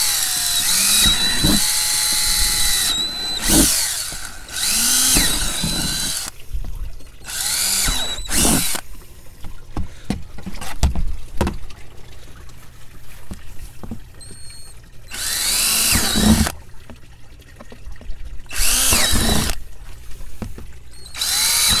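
A power drill runs in repeated short bursts, grinding and whirring as it bores holes in a plastic tote, with quiet pauses in between.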